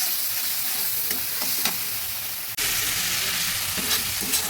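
Ground cumin, coriander and turmeric fry in hot oil for a prawn and ash gourd dish, giving a steady close sizzle with a few soft stirring scrapes and a brief dip in the hiss midway.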